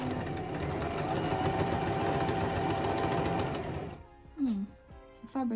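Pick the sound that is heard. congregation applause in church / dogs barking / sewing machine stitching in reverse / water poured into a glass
sewing machine stitching in reverse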